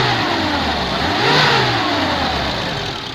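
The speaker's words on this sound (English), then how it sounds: "isn't it just the loudest fan in the world?" Under the bonnet of a Dacia, an engine-driven cooling fan turning at engine speed roars loudly alongside the running engine, whose pitch swells briefly in the middle as revs rise, then eases back, close and steady with no talking.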